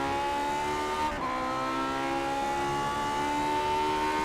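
A race car in a racing video game at Spa holds a steady, loud engine whine that climbs slowly in pitch, with a brief dip near the start as it shifts, and no talk.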